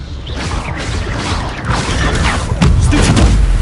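Expelliarmus spell cast in combat in Hogwarts Legacy, a loud game scene of booming impacts and crashing effects layered over a dense rumble, swelling near the end.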